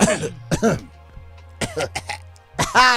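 A few harsh coughs and throat-clearing bursts, close and loud, separated by short pauses, with voice-like sounds mixed in.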